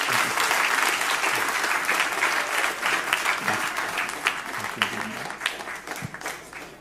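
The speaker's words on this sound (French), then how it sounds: "Ok, applaudissez monsieur pour nous." A congregation applauds during a Sunday presentation at an evangelical Baptist church, with steady dense clapping throughout and voices mixed in beneath it.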